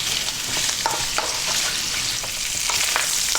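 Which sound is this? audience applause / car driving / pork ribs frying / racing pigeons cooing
pork ribs frying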